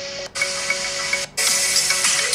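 Music played through a bare phone speaker during a home-made phone speaker test, thin and tinny with a steady tone, cutting out briefly twice before returning louder; no talk.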